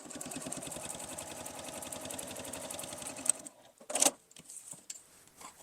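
A sewing machine stitches through a clear vinyl pouch with steady rapid needle thumps, back stitching at the seam, then stops; a few clicks and handling sounds follow in a quieter room.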